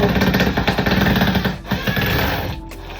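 A Work-X power drill backing out screws that are stripping during a 2022 Jayco Jay Flight 264BH camper remodel, producing loud, close, rapid rattling bursts, then a brief pause and a steadier whir.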